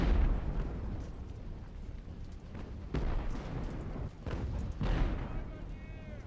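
Mortar fire in Ultimate Admiral: Age of Sail during the Siege of Toulon, heard as a sustained din of booming explosions and artillery blasts, with heavier bursts near the start, around three seconds and near five seconds, while a voice talks over it.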